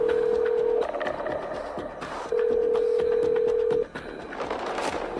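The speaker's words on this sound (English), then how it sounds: "Rian calls his mother multiple times, but she does not answer either" Telephone ringing tone sounding in two long steady bursts with a gap between them, unanswered, loud and close, with no voices over it.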